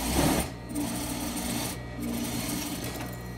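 A sewing machine stitches a sleeve seam for a set-in sleeve in short close bursts, a rapid whirring chatter that pauses briefly and starts again, with no talking.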